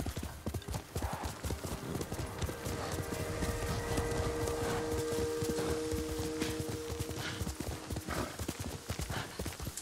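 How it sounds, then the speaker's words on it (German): Horse hooves gallop in Ghost of Tsushima while riding across open grassland, a steady close clip-clop rhythm running throughout with an occasional whinny and faint game sounds beneath. "mit dem Pferd hier durch die Prärie zu reiten"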